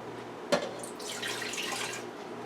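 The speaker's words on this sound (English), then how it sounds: "we're going to add 3/4 cups of water" Three quarters of a cup of water is poured into Meyer lemon pound cake mix, opening with a sharp knock followed by a steady splashing trickle that runs for about a second before stopping.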